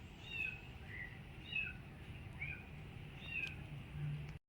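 A cat outdoors in a damp garden after summer rain gives four evenly spaced, fairly distant meows against a soft, steady background.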